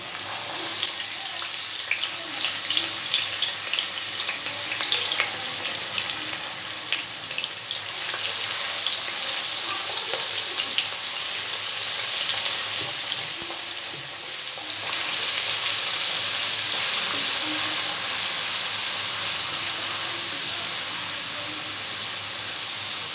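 Onion paste fries in a pan, a continuous loud sizzle and crackle with bursts of spattering and occasional stirring, heard up close with no one talking.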